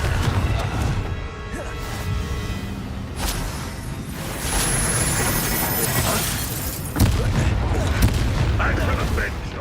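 Confringo fire spells blast in Hogwarts Legacy combat, with repeated loud booms and crashing impacts amid dense battle noise, and voices shouting over the fight.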